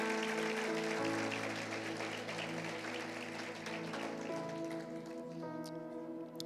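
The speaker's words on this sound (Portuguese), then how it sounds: "Dê um aplauso bem forte ao Senhor." A church congregation claps loudly and steadily for several seconds, a dense wash of applause layered over sustained keyboard chords that change pitch.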